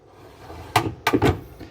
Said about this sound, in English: There are a couple drawers here that pull out.